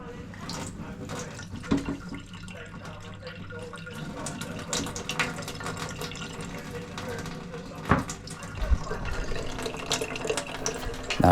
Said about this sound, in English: By removing the plate slightly, it's just dumping out the rest of its water